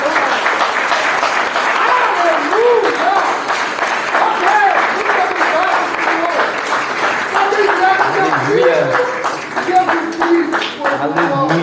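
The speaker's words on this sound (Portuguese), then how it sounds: "vamos dar uma salva de palmas a Ele" A church congregation claps for Jesus, an even wash of applause that runs the whole time while a voice sings or speaks over it in rising and falling phrases.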